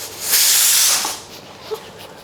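A small pressure cooker on an induction hob in a show kitchen lets out a loud hissing whistle of escaping steam for under a second, then fades to a quieter background hiss.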